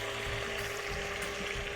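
Finely chopped onion and garlic frying in a pan with turmeric for a chicken and rice dish, a soft continuous sizzle with light crackle, steady and fairly quiet over the short span.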